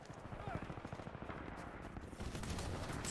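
Rapid gunfire bursts from the shooter game Titanfall 2, a steady rattle of automatic fire that grows denser and louder toward the end, running on under continuous game audio.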